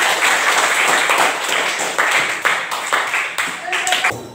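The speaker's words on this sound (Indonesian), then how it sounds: "berikan tepuk tangan" A classroom audience applauds during a teaching session, a dense, steady wash of many hands clapping at close range that carries through the whole stretch.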